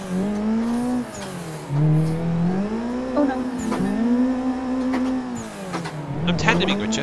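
Car drifting in a racing video game, with a steady engine drone that rises and falls as it is revved through the slides, under near-constant talk.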